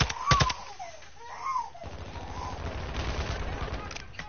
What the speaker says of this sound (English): Someone's shooting at him.